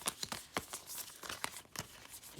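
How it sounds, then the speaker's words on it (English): A deck of tarot cards is shuffled by hand, giving quick, soft papery riffles and crinkles in an irregular rhythm, close and fairly quiet with no talking. "Give these a good shuffle."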